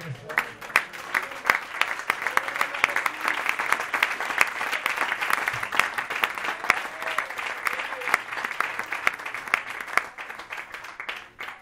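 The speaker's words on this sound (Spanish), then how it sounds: "Demos un aplauso para el Señor." A church congregation claps in sustained applause to praise the Lord, a dense, steady roar of many hands lasting throughout with a few voices calling out beneath it.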